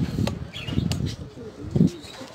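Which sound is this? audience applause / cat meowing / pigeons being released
pigeons being released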